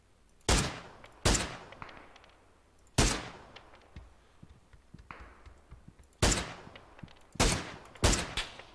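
SLR rifle fire in a video game: six or seven sharp, loud single shots spaced irregularly, each with a short decaying tail, plus a few faint distant thuds between them and no speech.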